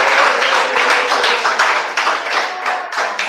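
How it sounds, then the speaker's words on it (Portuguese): A church congregation applauds a woman during a worship service, dense clapping filling the room for a few seconds without a break. "Recebemos ela com mais palmas."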